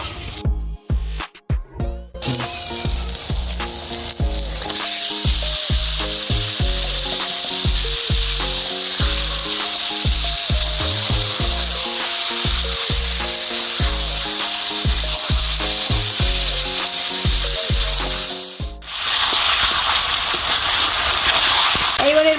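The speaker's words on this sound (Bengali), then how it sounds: "পেঁয়াজ আদা রসুন একটু ভেজে নিয়েছি এবার এর মধ্যে দিয়ে দেবো ম্যারিনেট করে রাখা মাংস" Marinated chicken dropped into a pan of fried onion, ginger and garlic for a Bengali Dak Bungalow chicken curry, giving a loud, steady sizzle with rhythmic scraping stirs throughout and a brief break near the end.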